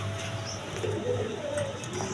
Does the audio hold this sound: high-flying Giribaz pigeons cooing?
yes